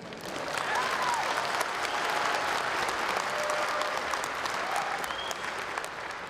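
Dense, steady applause from a large audience at a Kazakh stand-up comedy concert in Almaty. It rolls on evenly throughout, with faint crowd noise mixed in.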